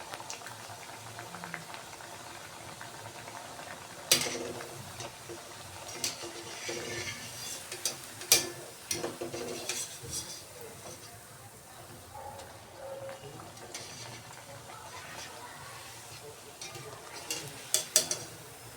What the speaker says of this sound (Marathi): आवाज किती छान फ्राय करून झाली. एकदम कुरकुरीत आवाज पण बघा कसा येतोय.